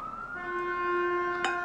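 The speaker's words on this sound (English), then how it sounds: "there's an ambulance outside. Fire truck, there's emergency response vehicle going by" An ambulance siren passes outside, with a fire truck and other emergency response vehicles going by; a steady wailing tone holds throughout, fairly distant and muffled, with a brief sharp sound near the end.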